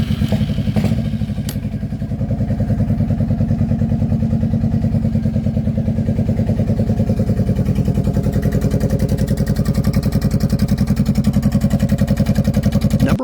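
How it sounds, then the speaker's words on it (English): A custom Suzuki motorcycle with an upgraded exhaust idles close by, giving a loud, steady, throbbing engine pulse throughout, with a few clicks at the start and no voices. "The upgraded exhaust delivers a loud and aggressive tone that complements its appearance"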